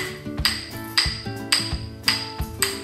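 Sharp wooden clacks from rhythm sticks tilted and hammered together in a steady repeating rhythm, about five pairs of hits, close and clear with bright ringing overtones.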